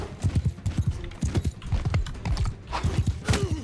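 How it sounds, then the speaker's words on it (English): A steppe horse trots in Mount & Blade 2: Bannerlord, its hooves clip-clopping in a quick, uneven rhythm. The hoofbeats are close and loud and continue throughout with no speech. "we can mount this steppe horse"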